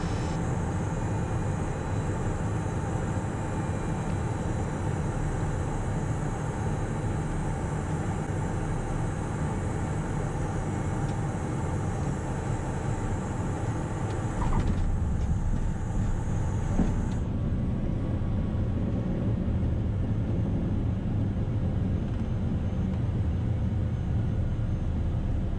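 A Cessna Citation Mustang jet rolls out under light braking, with a steady, loud broadband roar of engine and rolling noise throughout and a high whine that cuts off partway through.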